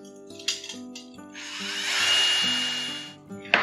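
A drill-powered mixer whirs through a batch of liquid gingerbread during fermentation prep, starting in short bursts and then running in one long steady drone before a final brief burst, up close with no talking.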